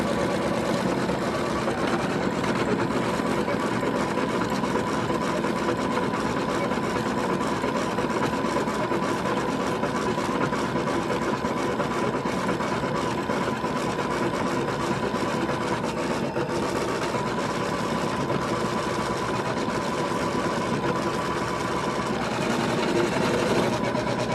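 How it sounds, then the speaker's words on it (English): Embroidery machine stitching stabilizing stitches on a quilt project, a continuous, even mechanical whirr and rapid needle chatter that stays steady and close with no talk. "let's check on our embroidery. I think we're still doing stabilizing stitches."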